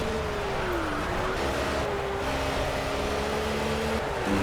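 An M1 Procar race car engine in Project CARS drones loudly up close, its pitch sliding down and resetting through gear changes over a few seconds.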